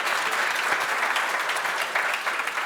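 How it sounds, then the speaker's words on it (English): Audience applause for a speaker named Sacha at the DSC Europe 24 data science conference in Belgrade, a steady wash of many hands clapping, loud and continuous throughout with no talk over it. "I would like one big applause for Sacha"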